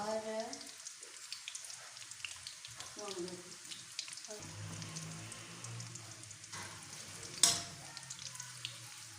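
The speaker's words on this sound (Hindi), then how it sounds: "इनको सेम पकोड़ों की तरह हल्का हल्का फ्राई कर लेंगे और निकाल लेंगे।" Corn kernels fry lightly in hot oil, pakora style, with a steady crackling sizzle that fills the pause between faint voice fragments, plus one sharp clink partway through.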